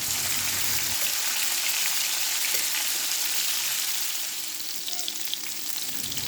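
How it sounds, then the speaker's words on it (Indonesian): Gourami fish fries in hot oil until dry and browned, with a constant, dense crackling sizzle, loud and close, with no voices. "guramenya digoreng semuanya sampai kering dan juga warnanya agak kecoklatan ya"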